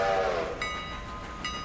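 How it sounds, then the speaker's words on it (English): A train in the Railroader video game passes over an under crossing, with a rumbling horn-like tone fading early and a few metallic clanks and clicks following in steady background noise. "I'm going past under crossing with train number 2"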